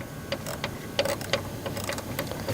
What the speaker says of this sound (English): You're going to take a 10mm socket wrench, an extension is recommended, and loosen this bolt here.